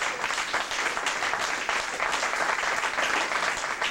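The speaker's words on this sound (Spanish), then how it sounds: "Fuerte aplauso al Señor, hermano" A church congregation applauding, dense steady clapping from many hands sustained throughout, moderately loud and close with no clear talking.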